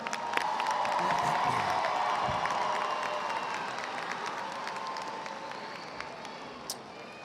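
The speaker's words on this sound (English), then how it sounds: "Give yourselves a round of applause." Graduation ceremony audience applauds steadily in a large hall, a dense wash of many hands clapping at moderate distance with a few faint whoops, gradually thinning toward the end.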